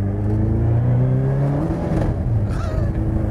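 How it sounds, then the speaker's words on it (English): A car fitted with a motorbike engine, a Megabusa, howls loudly and steadily close by, with a strained, revving drone that shifts pitch partway through. "you can hear that howl from the engine"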